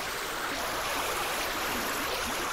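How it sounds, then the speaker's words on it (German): Flowing water in Minecraft, played with altered, unusual textures and sounds, rushes as a steady, dense, hissing stream that stays loud and unbroken the whole time with no voices. "Stimmt, Wasser."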